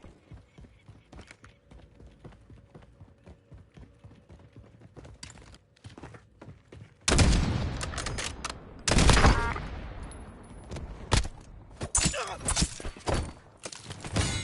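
Video game gun opening fire after a reload: quiet clicking and handling at first, then loud bursts of rapid gunfire with sharp cracks and a few separate shots trailing off near the end.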